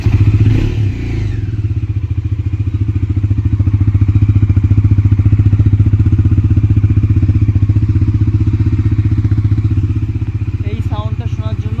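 A newly bought motorcycle's engine runs close by in a loud, steady, thumping idle that holds for the whole stretch, with a few brief clatters near the end.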